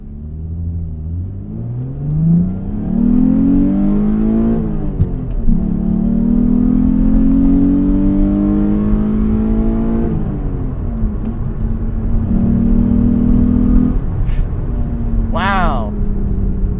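A 1996 Mitsubishi 3000 GT base model accelerating flat out, engine note climbing loudly through several gears with brief dips at each shift, heard from inside the car with people talking over it.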